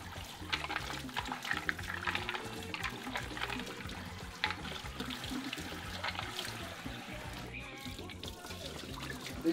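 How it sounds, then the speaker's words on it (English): Water running over mussels in a kitchen as they are rinsed of sand, a steady splashing trickle at close range with a few clatters, no talk. "I'm going to start by rinsing off my mussels just to clean out some sand or anything that may be there"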